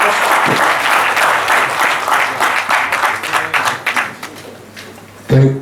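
Audience applause at an international academic conference on management and entrepreneurship, a full round of clapping that stays dense and steady, thins out toward the end, and stops with a brief louder burst.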